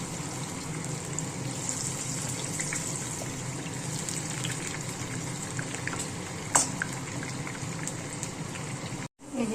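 Raw banana and sweet potato pieces fry in oil, giving a steady bubbling, hissing sizzle that runs close and unbroken, with one brief clatter near the end and no talk.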